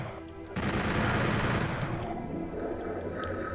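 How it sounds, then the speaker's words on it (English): The chain gun fires in Doom 64 on the Plant Ops map, a dense, continuous rapid-fire burst that starts abruptly and runs steadily for about three seconds, loud and close, with no voices. "We can just use the chain gun for the faraway nightmare imps."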